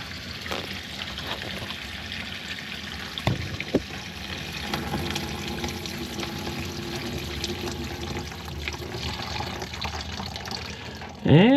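Water drains steadily from a 1937 Caterpillar Twenty-Two crawler, a continuous splashing trickle with a few louder knocks, close by and moderately loud.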